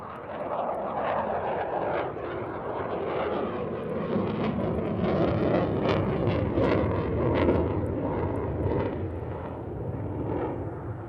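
A military jet, likely an F-22, roars past over Honolulu in a sustained, loud, broadband rumble that swells slightly and holds steady for the whole stretch, with no voices over it.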